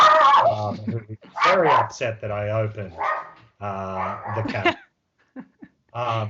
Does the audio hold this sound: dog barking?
yes